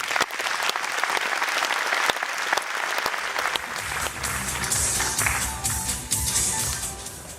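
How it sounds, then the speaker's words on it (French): An audience at a national secretaries' gathering of the CFE-CGC Métallurgie union applauds steadily, with dense sustained clapping that fills the hall for several seconds without a break. "Vous pouvez les applaudir."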